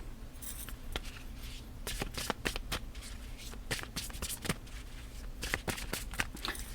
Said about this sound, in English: I really love the way these cards feel when you shuffle them.